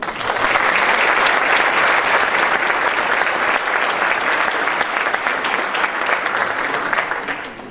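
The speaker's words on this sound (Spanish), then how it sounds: "Para todos ustedes pedimos respetuosamente sus aplausos" A large audience at the 2014 Mexican Judges' Day ceremony gives loud, sustained applause, a thick, continuous wash of clapping that holds steady for several seconds before easing slightly at the end.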